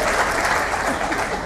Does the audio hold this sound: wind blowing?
no